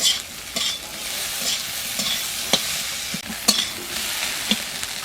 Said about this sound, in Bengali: এবার এর মধ্যে দিয়ে দেবো সিদ্ধ করা কর্ন কর্নটা দেওয়ার পর আমি সব কিছু আর একটু ভেজে নেব